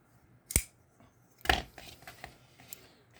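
An Oknife U1 utility knife snaps shut with a button press and a flip: two sharp clicks about a second apart, then a few faint handling taps, close up and quiet.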